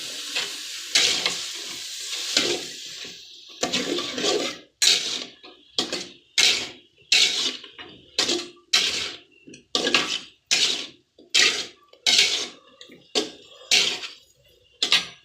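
Eggplant curry being stirred in a hot pan, a steady sizzle broken by a regular run of loud scraping strokes of a utensil against the metal, close and without any talking.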